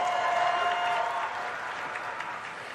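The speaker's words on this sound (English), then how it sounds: "Big round of applause for our" A crowd applauds steadily, a dense wash of clapping that holds fairly even and eases slightly toward the end.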